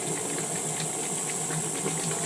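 Electric hand mixer whirring steadily through two eggs and two teaspoons of vanilla for Christmas cookie dough, a continuous close motor drone with a bright hiss, no talking.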